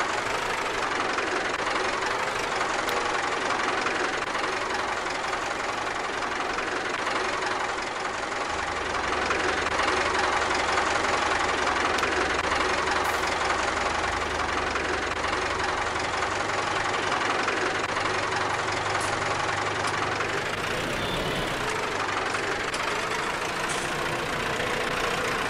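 A Massey Ferguson tractor engine runs steadily at a hayfield, a continuous low diesel rumble with a knocking idle that shifts in load partway through, no talk over it.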